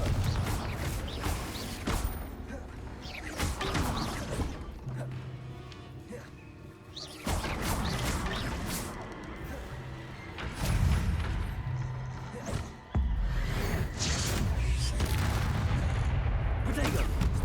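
Confringo blasting spells go off in Hogwarts Legacy combat, a series of sharp booming explosions and crashes scattered irregularly across the fight, loud and close, mixed with other spell effects and a speaking voice.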